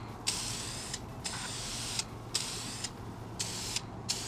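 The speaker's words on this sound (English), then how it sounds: "go spray it again." Spray paint can misting a black coat onto a front license plate mount for a 10th gen Honda Civic, in several short hissing bursts separated by brief pauses, close and fairly quiet.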